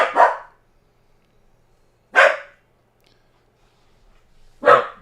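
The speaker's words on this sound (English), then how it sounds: "What are you barking at?" A dog barks three times, each a short, loud bark spaced about two seconds apart, close by with quiet between them and no talking.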